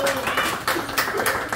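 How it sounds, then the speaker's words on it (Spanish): Applause from a small group at a family gift-opening, brisk scattered clapping close by, mixed with excited talking. "¡Aplausos, chavos!"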